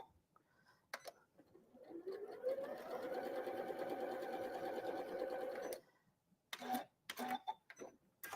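Sewing machine chain piecing half-square triangles for a tulip star quilt block, running in one steady close buzzing burst, with brief clicks and handling noises before and after.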